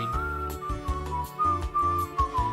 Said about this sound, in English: As everyone starts whistling.